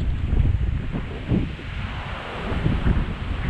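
Strong coastal wind buffets the microphone with heavy low roaring gusts that swell and ease, loud and close. No voices are heard.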